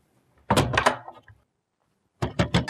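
Someone knocking on a closed door at home at night: two separate bursts of firm, close knocks, a first cluster of several raps followed by a pause and then another quick series of three.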